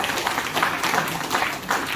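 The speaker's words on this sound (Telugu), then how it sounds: "And please clap for your self." Audience applause at an awards function, a steady, dense wash of many hands clapping in a hall, fairly loud throughout with no break.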